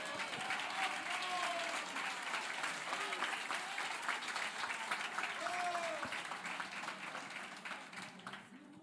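A church congregation gives sustained applause, a dense and even wash of clapping that runs for several seconds, with voices calling out over it before it tapers slightly at the end.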